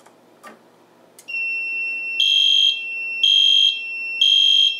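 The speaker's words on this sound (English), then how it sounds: "sounds like that time the alarm actually went off properly" A System Sensor i3 two-wire smoke detector emits a sustained high-pitched tone broken into three loud, regular pulses, following a couple of faint clicks at the start.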